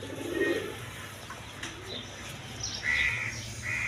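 A pair of red tiger pigeons of the original Indian Bombay breed, with soft coos and short calls at moderate distance over low background noise.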